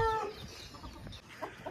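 Aseel chickens cluck in short bursts nearby, a few soft calls over quiet farmyard background.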